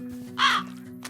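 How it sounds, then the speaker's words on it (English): A single harsh crow caw from a video game, loud and close, rising over a steady low game hum and fading out within half a second. "It was a crow."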